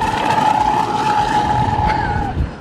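A Pro Boat Blackjack 8s RC boat runs across a small cove, its motor holding a loud steady high whine that fades slightly near the end as it moves away.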